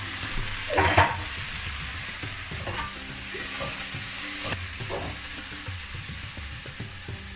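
Broccoli sizzles and crackles steadily in a hot pan, with occasional louder pops and stirring scrapes over a constant hiss.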